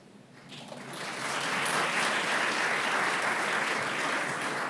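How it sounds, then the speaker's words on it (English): Applause at a school Golden Apple awards ceremony as an honoree walks to the front: clapping from a crowd indoors that swells quickly over the first second, then holds as a full, steady wash of claps. "You can keep that applause coming"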